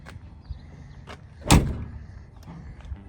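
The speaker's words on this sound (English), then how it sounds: "Doors shut up like new." A single solid door thud from a 1964 Chevrolet El Camino lands midway, preceded by faint clicks and mechanical rustling in a quiet shop.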